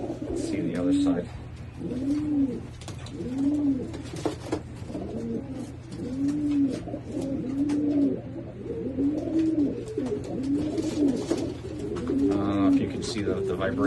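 Hardy Kruger pigeons coo in a loft, a steady series of rhythmic, close, moderately loud coos repeating about every second, with faint background hum.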